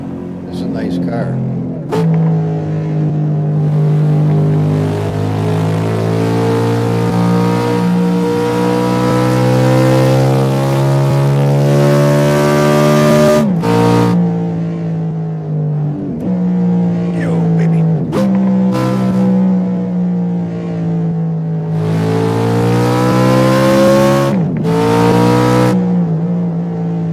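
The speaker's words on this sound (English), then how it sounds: "That's a Celine S7TT from Assetto Drive." Saleen S7TT supercar engine in the Assetto driving game, revving steadily through long rising gear pulls with brief drops at each shift, loud and close throughout.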